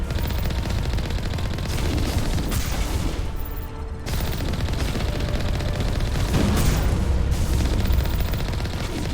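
Rapid heavy firing of the major cannon weapon in the Mass Effect video game, loud continuous booming bursts with short gaps, dense and sustained throughout with no talk.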